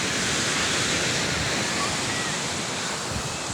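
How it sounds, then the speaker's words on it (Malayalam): Ocean surf on a Kerala beach roars in a continuous, dense wash of breaking waves, loud and close, with no talking. "കടൽ തീരം."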